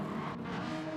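A Ferrari race car engine in a racing video game, the Trial Mountain circuit, holds a steady, continuous roar at moderate level for about a second, with no voices.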